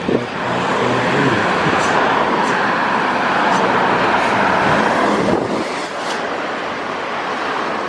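Honda Aero series 35 sleeper bus on a Sumatran road, passing with a steady loud engine and road roar, wind buffeting the microphone, and a brief brighter whoosh near the end as it goes by.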